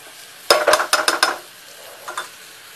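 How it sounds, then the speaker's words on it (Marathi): A spoon scrapes and stirs padval stuffing with fresh coconut and coriander paste in a pan, making a quick run of five or six close, crisp strokes followed by a fainter pair of scrapes. "छान मिक्स करून घ्यायचे"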